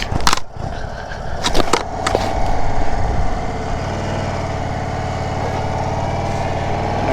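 Indian motorcycle riding on a cold January winter road in Ohio with the windshield fully raised, a steady continuous engine drone and wind rush throughout, with a few sharp clicks and bumps near the start.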